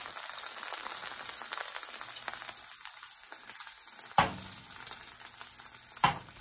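Banana peels fry in a pan with a steady, close sizzle, and two sharp spatter pops stand out near the end. No one speaks over it.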